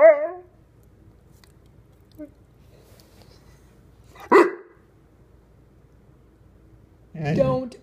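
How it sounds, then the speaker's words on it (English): One sharp, loud bark from a young Bullmastiff breaks a quiet room, with a brief vocal sound at the start and a voice near the end. "Don't bark at me."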